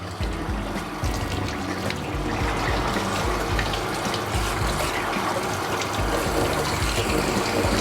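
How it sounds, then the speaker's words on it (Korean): A shower head sprays soft running water while a Bichon Frise dog is bathed, a steady close hiss and splash throughout with no talking. "지금처럼 물줄기를 조금 부드럽게 사용하시면 좋아요"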